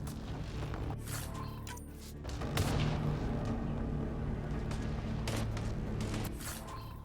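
Enemy gunfire in the sci-fi shooter Mass Effect: Andromeda, a dense, sustained barrage of sharp cracks and booms rolling on for several seconds, loud and close with layered battle noise.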